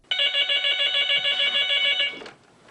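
A telephone rings with a loud, bright, continuous electronic bell trill for about two seconds, close and alone, then cuts off abruptly.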